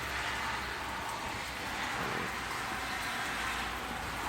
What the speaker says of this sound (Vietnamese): Trời ngoài thì đang mưa